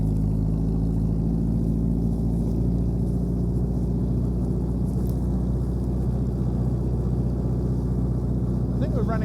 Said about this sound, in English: that was pulling away in third gear